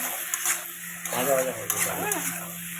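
Potato sautéing in a pan while an ilish curry with taro is being cooked, a soft sizzle with light clinks and scrapes of stirring utensils, close and quiet, with someone speaking over part of it.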